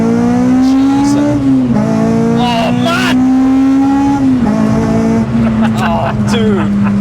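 A naturally aspirated 282 bhp Honda Civic track car revs hard through VTEC, its loud, rising engine note climbing and dipping with shifts, while excited voices exclaim over it.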